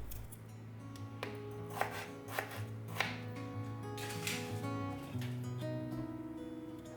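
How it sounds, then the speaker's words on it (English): Knife chopping potatoes, garlic and green chili on a board in a home kitchen, a run of steady rhythmic taps with a few louder strikes, close and moderately quiet over a faint steady hum. "I'll peel and chop the potatoes and chop some garlic and green chili."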